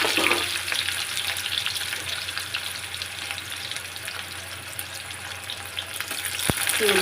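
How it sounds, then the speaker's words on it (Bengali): Chili, black cumin and onion frying in hot oil in a home kitchen, a steady close sizzle with light stirring scrapes throughout and one sharp tap of a utensil near the end. "লঙ্কা দিলাম, একটু কালো জিরে দিলাম, তারপরে পেঁয়াজ"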